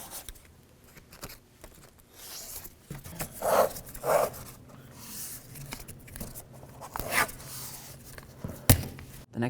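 Tape being pulled and torn over the door window of a 1988-2002 GMC Sierra 1500 truck, a few short ripping bursts separated by quiet rustling and handling noises, close by.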